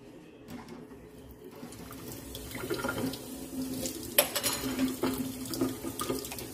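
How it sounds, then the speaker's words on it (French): Water runs from a kitchen tap in a steady, moderately close stream, with light splashing and a few small clinks of dishes in the sink. "Moi, je vais fermer mon robinet sur le ballon."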